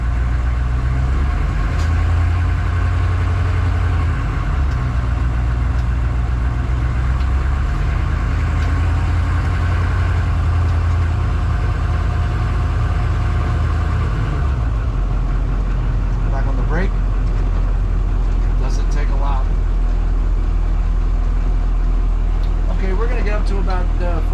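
A 1993 AM General Humvee drones along at low speed, a deep steady engine rumble with a firmer, heavier stretch before it drops to a lower hum, and a voice speaks over it.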